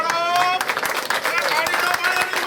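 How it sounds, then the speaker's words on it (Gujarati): A crowd claps through a welcoming ceremony at a Navchandi yagna as guests are honoured with shawls, with a busy patter of hands under continuous talking and a voice at the start. "હાલો ભાઈ તાળીઓ પાડો"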